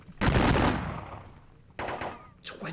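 Musket gunfire volleys in a Thirty Years War strategy game depicting the Battle of Breitenfeld: a loud crackling volley that fades out, then two shorter bursts of massed shots.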